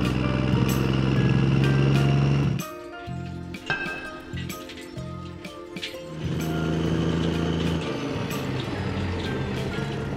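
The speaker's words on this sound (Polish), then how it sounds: "A to jest wywrotka." A cartoon dump truck driving on a construction site: a loud, rumbling engine drone with clanking, rattling detail, dropping to a quieter chugging stretch midway before the heavy rumble returns.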